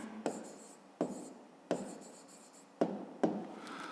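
Pen strokes on paper as a maths answer is written by hand in a school exercise, five distinct scratchy bursts each fading off, close and clear with no talking.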